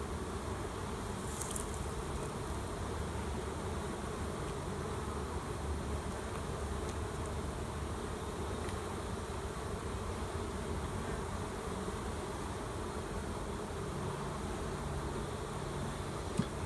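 Honeybees drone in a steady, dense buzz from an open hive during a walk-away split inspection, a continuous close hum with no voices.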